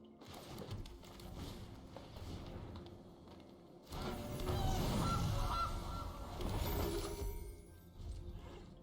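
A goose sound effect from the MTG Arena card game honks repeatedly over a mechanical game backdrop, growing louder midway, fairly quiet and with no voices.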